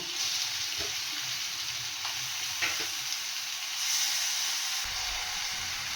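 Fish sizzle in hot oil with a steady bright frying hiss, close and continuous, with occasional soft clinks and a low rumble shift near the end.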